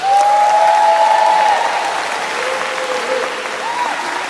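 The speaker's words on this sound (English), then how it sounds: "Give yourselves a round of applause," Graduates at a Huntsville commencement applaud themselves, a loud, full burst of clapping and cheering that holds strong, then eases slightly while continuing, with a whistle or shout rising above the crowd.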